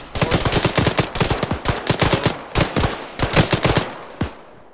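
Rapid automatic gunfire from a video game as players shoot at zombies, with dense bursts of shots in quick runs separated by brief pauses, loud and close throughout.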